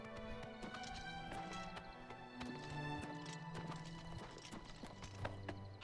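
Horse hooves clip-clop steadily in Oblivion Remastered, a rhythmic clatter layered over in-game music and ambience, with no talking.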